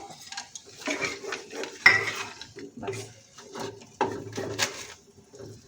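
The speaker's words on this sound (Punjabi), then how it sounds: "ਦੋ ਚਮਚੇ ਆਪਾਂ ਪੈਂਟਿਆ ਦਹੀਂ ਪਾ ਕੇ ਇਹਨੂੰ ਚੰਗੀ ਤਰ੍ਹਾਂ ਮਿਕਸ ਕਰ ਲਾਂਗੇ" A spoon stirs a vegetable curry with whisked curd in a pot, giving irregular scraping clinks and metallic knocks in short bursts, close and fairly quiet.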